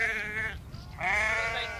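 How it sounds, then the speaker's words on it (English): Sheep bleating on a farm during herding with a sheepdog: two close, wavering bleats separated by a short pause, clear and prominent over a soft outdoor background. "we found the sheep and saw Cal,"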